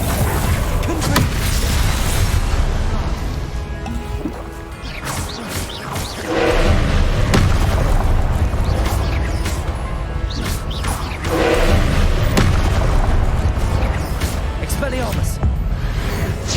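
Confringo fire-blast spells from Hogwarts Legacy crash and boom repeatedly amid dense, loud combat noise, with whooshes and impacts layered over a constant rumble.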